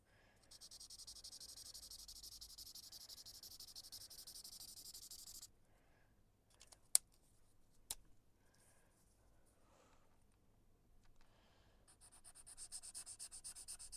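A chisel-tip marker scrubs across paper in steady broad strokes, a soft continuous hiss that runs for several seconds, stops through a quiet stretch with a couple of sharp clicks, then resumes near the end.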